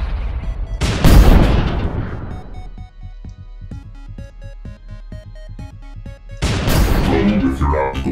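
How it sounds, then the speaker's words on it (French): A grenade launched in the video game Bionic Dues produces two loud booming blasts, separated by a stretch of sparse synthetic game tones. "Tire de grenade"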